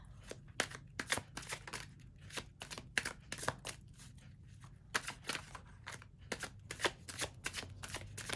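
Tarot cards shuffle close up in rapid, crisp riffles and slaps, a dense rhythmic run of card-on-card snaps continuing throughout with no talking.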